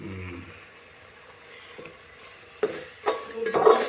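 Vegetables frying in mustard oil and being stirred in a pan, a steady sizzle with scraping stirs that grow louder and busier toward the end.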